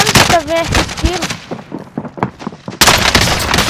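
Rapid gunfire bursts from a shooting video game, sharp repeated shots in quick clusters, loud and close, with players talking over the shots.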